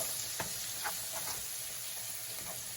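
Vegetables for cabbage fry in hot grease with a steady, faint sizzle and a few soft stirring clicks throughout.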